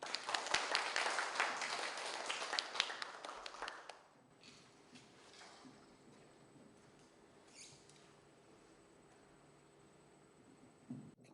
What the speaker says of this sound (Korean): 강사님을 박수로 환영해 주시기 바랍니다.